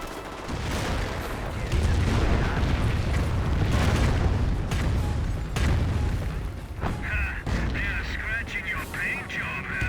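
An artillery firestorm in the World War II strategy game Company of Heroes: heavy, rumbling blasts and booms that run together into a continuous roar, with sharper impacts partway through and a commentator speaking over it.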